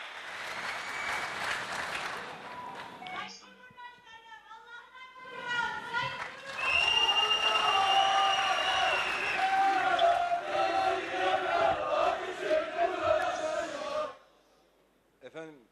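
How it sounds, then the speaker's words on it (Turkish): Crowd applause at an AK Parti rally in Malatya swells after a speaking voice, rising into loud sustained clapping and cheering, then cutting off abruptly near the end. "Sizleri tekrar alkışlıyorum"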